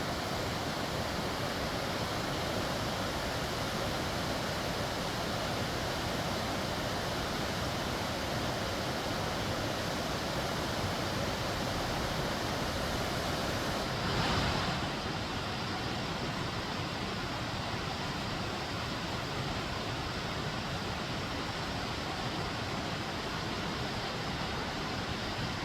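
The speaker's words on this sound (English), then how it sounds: "Love the sound of rushing water." Waterfalls at the Gilman Tunnels rush in a loud, unbroken roar that holds steady throughout, close and dense, with no talking over the constant white-water wash.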